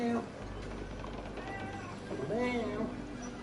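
A cat meows twice, close and fairly clear, with a short meow at the start and a longer wavering one later, over steady background noise; a person's voice may also be imitating the meow.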